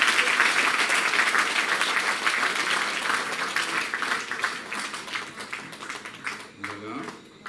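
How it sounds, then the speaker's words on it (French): Audience applause at a centenarian's birthday celebration evening in Vieux-Habitants, a dense, lively round of clapping that gradually thins and fades toward the end as a voice begins speaking. "Nous allons remettre un petit applaudissement"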